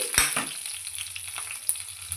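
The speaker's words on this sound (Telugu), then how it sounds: "దీనికి ముందు తాలింపు గింజలు వేగించుకోవాలి కరివేపా కరివేపాకు కూడా వేసుకుని" Mustard and other tempering seeds with curry leaves frying in hot oil for a cucumber curry, a steady close sizzle with a sharp crackle burst at the start and scattered pops after.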